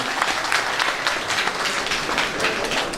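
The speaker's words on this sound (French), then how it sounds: "S'il vous plaît, applaudissez pour nous dire bonjour." A crowd at a UFDG political party gathering in Brussels claps steadily throughout, a dense and even wash of applause with no pauses.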